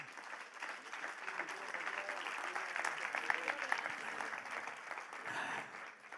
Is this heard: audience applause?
yes